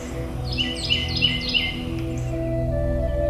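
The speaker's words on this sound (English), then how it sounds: "A chorus of birds heralds a new beginning." A spring chorus of birds in the Mississippi Delta flatlands: several quick, repeated high chirps and tweets stand out over a dense, steady bed of tonal music or ambience, fairly loud and continuous.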